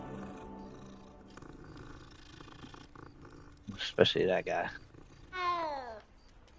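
Cats in the Hogwarts Legacy video game, a low rumbling purr under a brief spoken line, followed by a loud growling burst and a rising, drawn-out meow.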